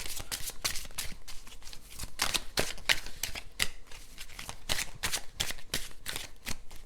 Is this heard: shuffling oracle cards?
yes